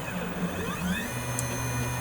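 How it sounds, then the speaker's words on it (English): An Arduino-controlled CNC machine with a GRBL shield runs continuously, giving a steady motor whine with shifting pitched tones and a brief high chirp, close and even in level. "CNC machine is doing its stuff."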